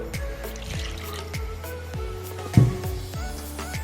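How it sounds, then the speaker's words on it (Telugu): Cold water drips and trickles into ribbon pakodi dough in a steady run of close, evenly spaced drops, with one louder splash near the end and no talking. "కొంచెం వాటర్ పోసుకొని కలుపుకుందాం"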